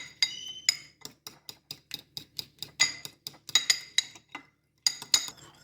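Rapid, regular clinks of a whisk striking a bowl as chicken cutlet batter with rice flour is beaten, close and crisp, with a few short pauses and no talking.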